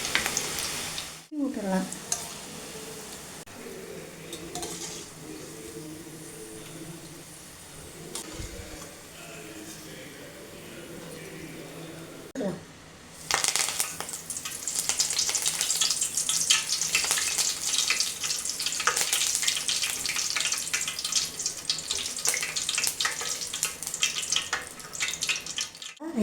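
Onion pakoda batter dropped into hot oil: quiet kitchen handling at first, then a loud, steady crackling sizzle of frying fills the second half, with a brief spoken word near the start.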